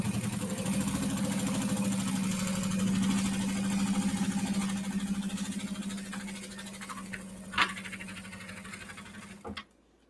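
A sewing machine hums steadily while sewing fabric pieces onto a large project holder, a close, even motor whir lasting most of the stretch before it slows, followed by a few handling clicks and knocks and then silence.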